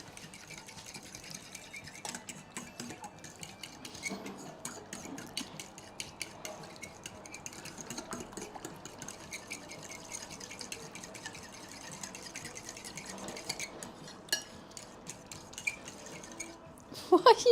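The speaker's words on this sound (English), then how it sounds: "we need to get a fork to whisk it" A fork whisks in a bowl while making oven-baked pizza, producing a steady stream of faint, rapid clicking and scraping taps that continue throughout and end with a few louder knocks.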